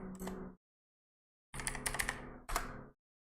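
Brief bursts of clicky typing on a computer keyboard, one short flurry then a longer run after a second of silence; quiet and close, no voices.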